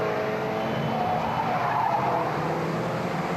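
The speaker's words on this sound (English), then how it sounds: "These are ordinary production cars straight from the car park." Ordinary production cars race around a circuit in a 1975 race, tyres screeching and skidding over a continuous engine roar at close range.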